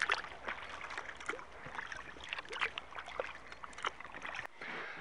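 Kayak paddle blades dip and pull through the water in repeated close splashing strokes, mixed with gurgling and light wind noise.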